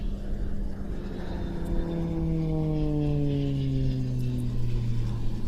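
An aerobatic display plane at an airshow practice, its engine drone sliding steadily downward in pitch as it passes, heard from a distance over a constant outdoor rumble.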